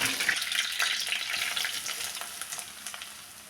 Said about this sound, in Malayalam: ഒരു സ്പൂൺ കടുക് കൂടി ചേർത്ത് കൊടുത്തിട്ടുണ്ട് കടുക് പൊട്ടി വന്നതിന് ശേഷം കുറച്ച് കറിവേപ്പില ചേർത്ത് കൊടുത്തിട്ടുണ്ട്